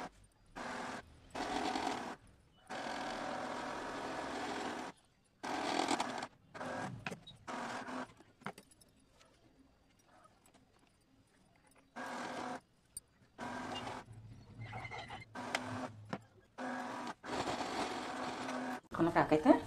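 An electric sewing machine stitching a girl's umbrella frock with lining, running in bursts of steady mechanical whirring separated by pauses, close and moderately loud.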